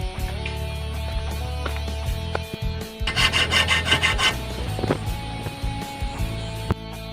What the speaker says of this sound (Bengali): ম্যানেজার এখন নাট কাটছে